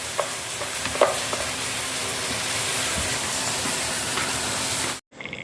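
Onions with turmeric frying in a pan give a steady close sizzle, with occasional scrapes and clinks of stirring, before the sound cuts off sharply near the end.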